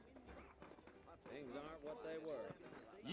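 Saddled horses clip-clop at a steady walk in the Western video game Red Dead Redemption, their hoofbeats running beneath a voice as he talks throughout.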